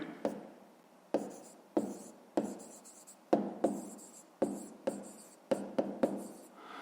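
Pen writing in a notebook during a fifth-grade maths exercise, close and quiet, with a string of short scratchy strokes and taps at an uneven rhythm.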